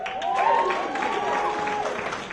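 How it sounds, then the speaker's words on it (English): Comedy club audience at a joke house breaks into applause, steady crowd clapping with some cheering, while a voice talks over the noise. "round of applause if you drink"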